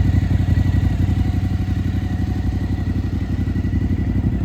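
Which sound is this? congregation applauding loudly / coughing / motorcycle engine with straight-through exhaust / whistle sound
motorcycle engine with straight-through exhaust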